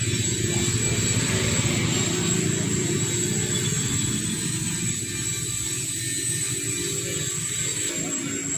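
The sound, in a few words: Shakti 10 HP mini tractor engine running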